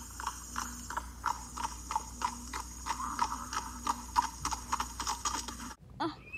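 A horse's hooves clip-clop in a steady, even rhythm, faint and somewhat distant, then stop abruptly near the end.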